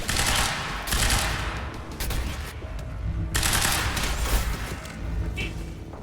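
Gunfire in the shooter game Quantum Break, loud and close, with rapid volleys of shots running almost without a break and brief gaps between bursts.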